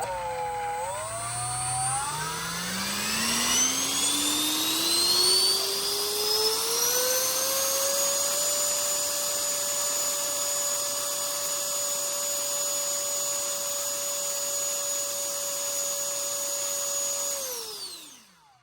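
An electric ducted fan on a static thrust test spools up from low to a loud, high, steady whine, holds it for about ten seconds, then winds down at the end.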